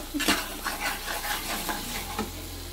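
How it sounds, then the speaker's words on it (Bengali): Steady sizzling of spices frying in a hot pan with stirring scrapes and light utensil clinks, no voices, followed by a dull rumbling hiss near the end as water is poured in. "মশলাটা দেখুন ভাজা ভাজা হয়ে গেছে এর মধ্যে এবার আমি দিয়ে দেবো জল"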